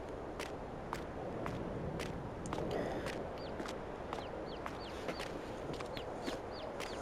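Chickens in the video game Farming Simulator 22 clucking softly over a steady ambient bed, with short repeated clicks and footstep-like taps throughout.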